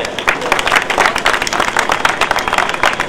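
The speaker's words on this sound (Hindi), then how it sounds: "तो सबसे पहले इनके इस बहुत बड़े सहयोग के लिए तालियां दिया जाए।" A large outdoor crowd of children claps at a single-use-plastic-free campaign event in Bulandshahr, dense and fairly loud, filling the whole stretch without pause.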